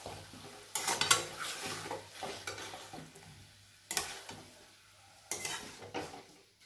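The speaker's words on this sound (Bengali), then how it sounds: "এবার আবারও ভালো করে এটাকে কষিয়ে নেব।" Coriander chicken being stir-fried in a pan, quiet sizzling under a few distinct bursts of spatula scraping and clinking against the metal, spaced a few seconds apart.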